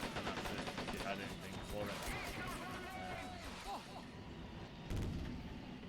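Gunfire in a Men of War Assault Squad 2 multiplayer 3v3 Assault Zones battle: a dense, continuous wash of shots and battle noise, with a louder burst near the end.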